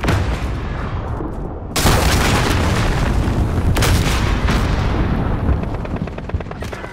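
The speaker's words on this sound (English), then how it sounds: "Enemy cruise missile." Cruise missile explosion in Call of Duty: Modern Warfare, a loud continuous roaring blast that builds to a heavier rumble partway through and stays dense and booming to the end, with sharp crackling bursts layered inside.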